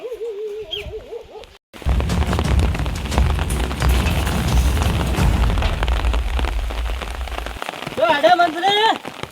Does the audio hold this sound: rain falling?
yes